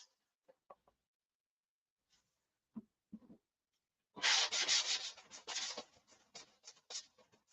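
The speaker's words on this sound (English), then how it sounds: "Okay, let's sand the other side. And we'll sand this side." Hand sanding of a painted surface: a few faint scrapes and knocks at first, then a loud, close run of rhythmic rubbing strokes that gradually trail off.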